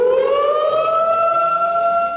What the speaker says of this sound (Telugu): సెక్యూరిటీ గార్డ్స్ ఎవరైతే ఉన్నారో వాళ్ళు వెంటనే అక్కడ అలర్ట్ అయ్యి సైరన్ మోగించారు